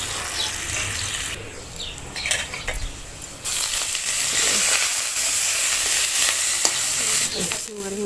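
Fenugreek seeds dropped into hot oil in a kadai, a loud crackling sizzle that jumps up partway through and holds steady, with some clattering and stirring noises.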